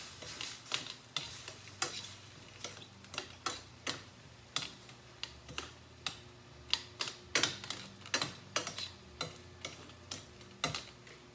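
Shrimp risotto made with cauliflower, mushroom and spinach, stirred in a pan with a utensil, giving a close, rhythmic run of sharp scraping strokes over a faint sizzle; no talking.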